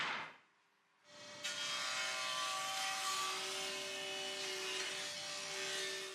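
Wooden boards being milled and cut with a power tool, a faint start, then a steady loud whining cut with a sustained tone running for several seconds.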